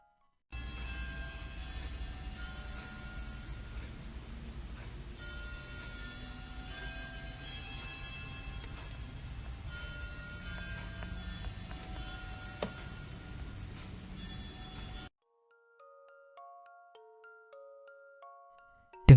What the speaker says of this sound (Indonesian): Dengar suara alarmnya aja udah merinding banget.